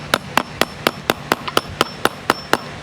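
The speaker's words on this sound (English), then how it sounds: "I'm going to try chiseling some of this out" A hand chisel struck with a hammer cuts out rotten wood on a Victorian porch, giving about eleven sharp, evenly spaced knocks, close and loud, with no one speaking.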